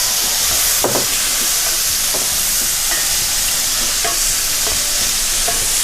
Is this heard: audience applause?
no